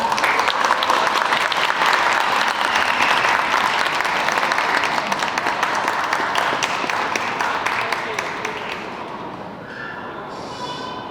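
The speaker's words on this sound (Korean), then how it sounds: "문엄산 목회자님을 큰 박수로 맞아주시기 바랍니다." Wedding guests in a convention hall applaud a pastor arriving to officiate, steady dense clapping lasting around nine seconds before tapering off.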